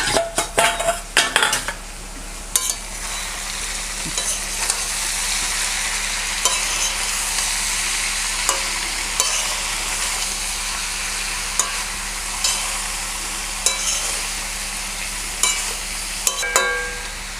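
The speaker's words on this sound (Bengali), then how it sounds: "নেড়ে দিলাম, আবার একটু ঢাকা দিয়ে দেবো 5 মিনিটের জন্যে" Cabbage with hilsa fish head stirred in a pan: a spoon or spatula clatters against the metal at the start, then a long steady sizzle and scraping, with occasional knocks, near and loud, with no voices.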